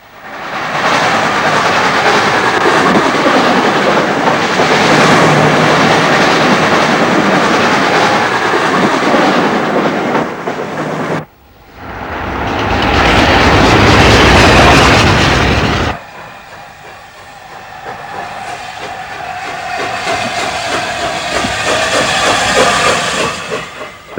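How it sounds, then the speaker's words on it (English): A train roars past loudly on the main line, a sustained rushing hiss that briefly dips, surges again, then fades into a quieter rolling clatter. "It's a nice place to watch trains go by."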